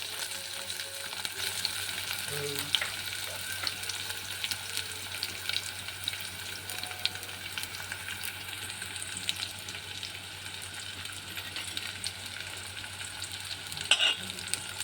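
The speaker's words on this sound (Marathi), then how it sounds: "हे लालसर होईपर्यंत आपण कलसायचं." Onion with garlic-ginger paste fries in a pan for dal makhani, a continuous hiss of sizzling under regular scraping stirs, with a couple of louder knocks near the start and end.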